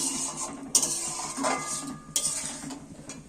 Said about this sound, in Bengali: এবার গাওয়া ঘিটা দিয়েও আমি একটু নেড়ে চেড়ে নিচ্ছি